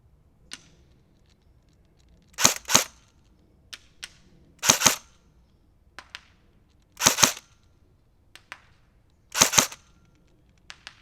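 An airsoft gun fired at long range, about 165 feet: four sharp double-crack shots spaced a couple of seconds apart, each followed by faint ticks, clear and close against a quiet background.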